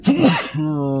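A man who is unwell gives a single sharp sneeze, a short explosive burst followed by a brief voiced tail, loud and close.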